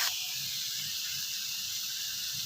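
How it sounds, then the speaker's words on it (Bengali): Onion, chilli and salt sizzle in hot oil in a pan, a steady, bright frying hiss that starts suddenly and holds evenly close by, with no talking. "এখানে পেঁয়াজ, লঙ্কা আর নুন দিয়েছি, এটাকে আমি আগে ভালো করে ভেজে নেব।"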